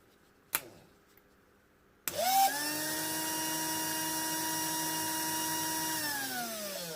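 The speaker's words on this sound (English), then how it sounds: "watch how many amps this motor is pulling now" Small electric motor from a Range Rover parking brake module, running on a bench: a sharp click, then a steady, fairly loud whine that holds evenly for several seconds before its pitch drops slightly near the end.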